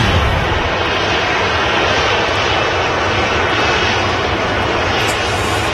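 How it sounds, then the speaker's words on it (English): A Ryanair airliner taxis past at Manchester Airport, its jet engines giving a loud, steady, close roar that fills the whole stretch with no letup. "this is the Ryanair we see do the go-around earlier, taxiing past us"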